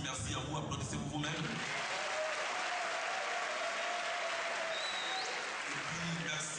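Applause from a crowd gathered at an Ivorian tribute to P.E. Lumumba, with steady, dense clapping that lasts throughout, a few voices and a brief whistle rising above it.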